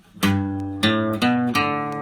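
Four distinct strums of guitar chords, spaced about half a second apart, each attack ringing briefly before the next, played slowly and close with no talking.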